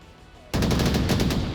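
A sudden burst of rapid automatic gunfire in the virtual reality shooter Onward during a competitive playoff match, loud and close, its shots evenly spaced and continuing to the end after a quiet start.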